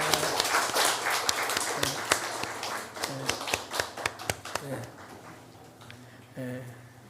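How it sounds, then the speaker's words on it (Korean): A church congregation at a Sunday morning service claps together in a burst of applause that thins into scattered claps and fades, with a voice speaking over parts of it. "우리 그런 마음으로 박수하겠습니다."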